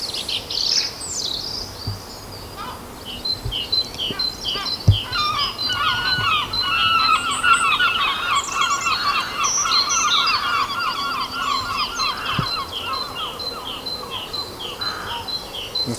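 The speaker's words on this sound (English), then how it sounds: "That's the seagulls off to work." Seagulls call at dawn around 5:30 in the morning, a chorus of overlapping cries and squawks at middle distance, steady and layered throughout, with a few faint knocks underneath.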